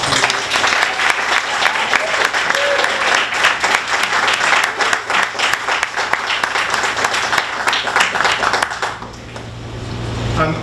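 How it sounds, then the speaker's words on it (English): A crowd at an awards ceremony breaks into loud, sustained applause that fills the room for about nine seconds before tapering off, with no one speaking over it. "can we give another round of applause"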